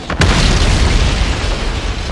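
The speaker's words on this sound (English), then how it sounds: "the hazardous mixture of air and hydrocarbons found an ignition source, and there was a large explosion" A large explosion at the Husky Energy refinery in Superior, Wisconsin, as a hydrocarbon-air mixture ignites: a sudden loud blast followed by a sustained, heavy roaring rumble.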